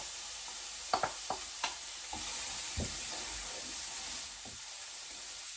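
Finely chopped onion dropped into a pan of garlic and chilli sets off a steady hiss of frying. A few quick clacks and scrapes from a utensil come early, and there is no talking.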